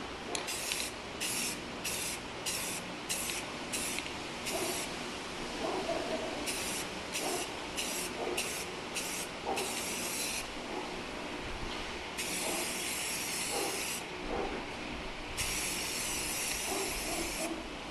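Short hissing bursts of an aerosol spray can putting a thin coat of orange paint on a Toyota Tacoma truck part, at first quick rhythmic passes, then longer sustained sprays, close and steady.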